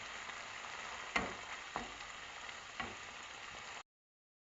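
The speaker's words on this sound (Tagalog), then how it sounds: "Yan pa, olive oil, bawang at saka dilis na sariwa po. Igigisa lamang po yan." Garlic and fresh anchovies sautéing in olive oil, a soft continuous sizzle with three brief stirring knocks, fairly quiet, ending abruptly in silence, with no one talking.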